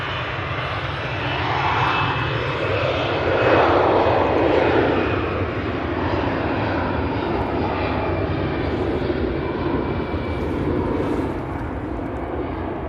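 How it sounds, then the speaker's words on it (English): An EasyJet airliner bound for Malta roars loudly at Manchester Airport, its engine noise swelling and holding steady as a broad continuous rumble throughout. "this is the EasyJet to Malta"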